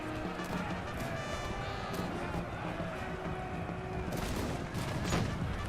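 Musket volleys crackle and pop without a break in a Napoleon: Total War online battle, a dense roar of massed gunfire with sharper bursts near the end.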